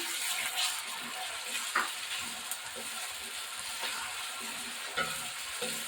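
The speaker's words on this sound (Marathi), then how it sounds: "कांदा हलकासा ब्राऊन झालेला आहे आता मी त्याच्यामध्ये टाकते टोमॅटो" Chopped tomato goes into lightly browned onions frying in a pan, giving a steady soft sizzle with a few brief clatters and stirring knocks, close and unbroken by talk.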